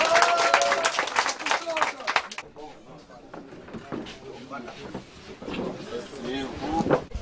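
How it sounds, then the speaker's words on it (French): A crowd at an outdoor event claps in a brief burst, then the clapping thins out and scattered voices talk over it. "applaudissez encore"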